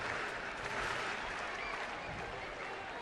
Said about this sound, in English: Sellout crowd here today